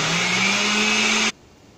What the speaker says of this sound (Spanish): Lo vamos a licuar para que quede bien, bien